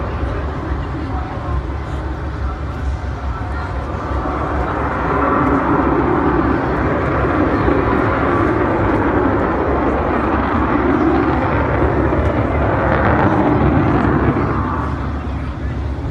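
A loud, steady roar from the jet engines of the Avro Vulcan bomber XH558 fills the whole stretch, swelling slightly partway through and holding at a heavy, continuous rumble with no clear pauses.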